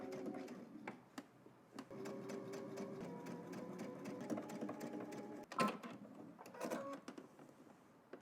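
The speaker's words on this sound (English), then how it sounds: "let's head to the machine, and we're just basically going to stitch right in the middle of that seam, which is stitch in the ditch" A sewing machine stitching in the ditch along a seam on a shirt cuff, a steady close rapid needle chatter running for several seconds with brief pauses and clicks.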